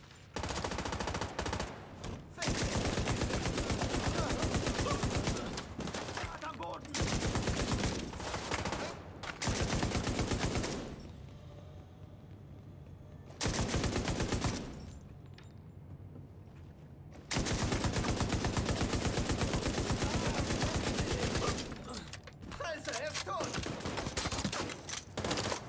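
Bursts of rapid gunfire crackle in long runs with brief pauses, dense and loud, from a battle in The Division 2.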